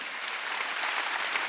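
A church congregation at a Wednesday worship service claps together, a brief, faint, steady burst of hand-clapping with no voices over it.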